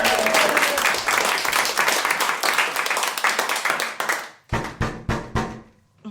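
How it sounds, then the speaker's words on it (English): An audience claps for several seconds in a lively burst that thins out, ending in a few scattered separate claps. "let's give her a big round of applause for trying"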